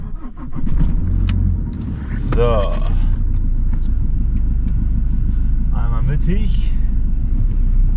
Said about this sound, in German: So, dann fahre ich den Pickup eben einmal in die Mitte von der Einfahrt.